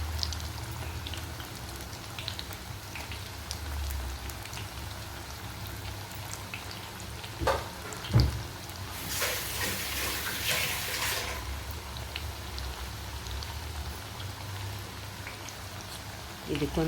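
Bitter gourd (karela) slices for chips go into hot oil in a pan, with a burst of bubbling sizzle midway over a steady low hiss and a voice speaking.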